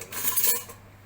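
Metal ladle lifted out of the inner pot of a Mealthy 9-in-1 electric pressure cooker, a brief close clatter and scrape of utensil against metal, alone with no talk.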